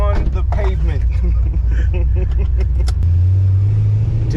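An LS V8-swapped Infiniti G35 rumbles loudly while driving, its deep engine drone rising and settling under continuous conversation inside the car.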